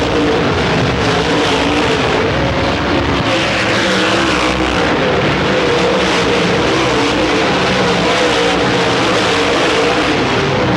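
Dirt-track race cars roar around the circuit on the last lap of a heat race, a dense, loud, continuous engine din that fills the whole stretch with no pause.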